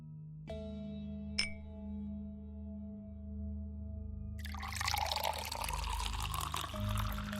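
Water poured for drinking in a Hindi horror film scene, a soft clink followed by a steady close splashing pour over a low droning background.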